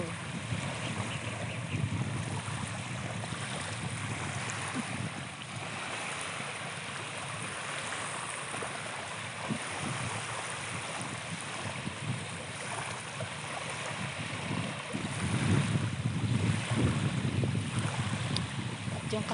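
Wind and sea waves at a seashore on a rough morning, a steady broad wash of noise with wind buffeting the microphone and a swell of stronger surf near the end.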